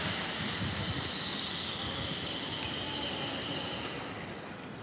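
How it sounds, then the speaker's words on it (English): A St Petersburg Metro train on the Violet Line rumbles past underground with a loud sustained roar and a faint high wheel whine, slowly fading as it moves away. "The trains yet keep coming"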